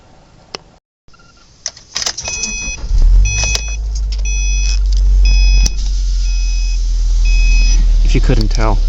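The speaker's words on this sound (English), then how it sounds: "Getting the roll by of the car going by." A car rolls past at close range, its engine rumble swelling loud and holding, while thin electronic beeps and clicks sound earlier in the clip.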